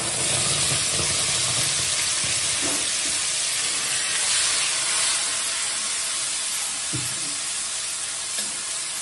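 Chopped tomato, ginger, cumin and chili go into hot tempering oil in a pan, making a dense, steady sizzle with occasional stirring knocks, close up and with no talking.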